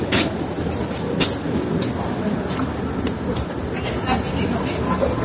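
A metro train in motion rumbles steadily from inside the carriage, with a continuous low roar and occasional sharp rail clicks and clatter.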